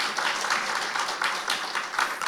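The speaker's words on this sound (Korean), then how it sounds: "박수 한번 여러분 쳐드리세요." Brief burst of audience clapping at a Korean defence technology seminar, greeting arriving lawmakers from the defence committee; a short, moderately loud round of applause with uneven pulses and no talking over it.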